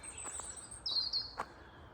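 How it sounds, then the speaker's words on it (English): Blackbirds sing in a spring garden at Renishaw Hall in Derbyshire, a couple of short, clear whistled phrases heard faintly at a distance over a quiet background. "Oh, and blackbirds singing."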